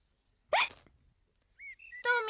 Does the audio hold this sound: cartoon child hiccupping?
yes